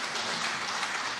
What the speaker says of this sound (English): Let's give a round of applause to both our candidates.